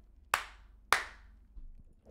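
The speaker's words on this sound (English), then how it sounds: "That was my round of applause." One person claps twice, two sharp, close hand claps about half a second apart, followed by faint light knocks in an otherwise quiet room.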